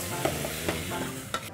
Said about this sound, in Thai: เราใส่ไส้กรอกเพื่อรวนนะฮะ